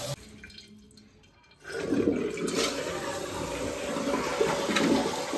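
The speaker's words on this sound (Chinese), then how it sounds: "打胶之前，我们先上水冲水" A newly installed toilet is flushed to test for leaks: after a quiet moment, a loud rush of water bursts in and keeps swirling and draining steadily nearby.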